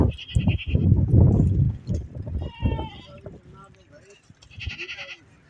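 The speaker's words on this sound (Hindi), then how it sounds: "वहाँ भी बहुत सारी बकरियां खड़ी हैं।" Goats bleating repeatedly at a busy goat wholesale market in Lyari, Karachi, with several close, loud bleats over crowd chatter and people talking nearby.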